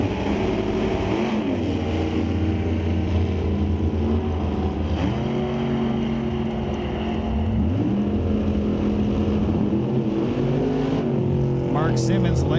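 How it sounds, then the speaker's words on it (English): A 1969 Corvette and a Camaro launch side by side at an NHRA Canadian drag strip, loud engines roaring and climbing in pitch as they pull away, with an announcer talking over the noise. "beautiful 69 Corvette in the left lane, lined up next to Mark Simmons Camaro"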